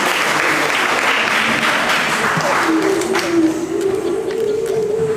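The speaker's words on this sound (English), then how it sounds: "Yes, you can clap. Please clap." Steady, dense applause from an audience at a Kathak dance show in Dubai fills the clip, with a voice briefly speaking over the clapping.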